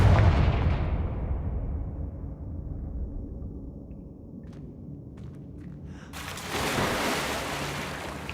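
Confringo blasting-spell explosions in the video game Hogwarts Legacy, a loud booming blast that rumbles and fades, followed by a second burst of roaring noise.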